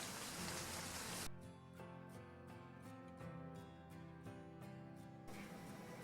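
Rain falls steadily outside, a soft even patter that stays constant throughout with no voices.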